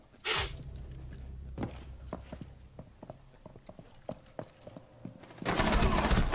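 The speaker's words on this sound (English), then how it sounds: "Oh my god, I shot his shield." Bursts of gunfire in the video game Rainbow Six, with a loud opening blast, a run of sharp, irregular shots, and a heavy sustained volley at the end.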